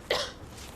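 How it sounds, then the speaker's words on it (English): A single short, sharp cough in a Robitussin TV commercial, brief and fairly close, heard alone with no talk over it. "that cough looks pretty bad"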